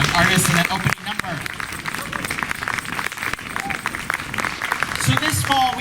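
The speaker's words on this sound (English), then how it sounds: "Let's give another round of applause for all of our young artists" An audience at a youth theatre performance claps in sustained applause after an opening number, a dense crackle of hands throughout with voices mixed in.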